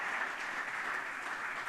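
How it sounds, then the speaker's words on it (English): Audience applause, a steady wash of clapping at moderate distance, fairly quiet and even for the whole short stretch with no voices over it. "round of applause for Graham Skipper"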